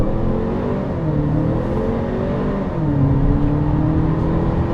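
A 2018 Infiniti QX30 S compact crossover drives on a handling loop, its engine note rising and falling steadily under load with continuous road noise, close and fairly loud, with no talking.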